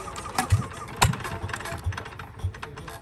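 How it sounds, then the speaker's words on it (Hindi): A Peter diesel engine is hand-cranked and started outdoors on a road trip stop, giving a rough, knocking mechanical chug with irregular thumps and rattles, fairly close and steady for a few seconds. "ये मशीन स्टार्ट हो रही है, ये इसको इस तरह ऐसे घुमा के स्टार्ट करते हैं, ये वो है पीटर इंजन है ना"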